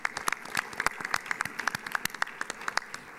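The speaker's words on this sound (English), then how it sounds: "Applaud you guys." Audience at an evening education forum applauding, a room of hands clapping at an irregular rate. The claps are sharp and close, some stand out from the crowd, and they carry on steadily for a few seconds with no talk.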